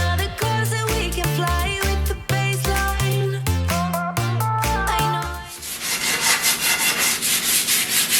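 Tonal background music plays at first, then gives way to steady, rhythmic rasping strokes of sandpaper rubbing over a wood panel, close and fairly loud.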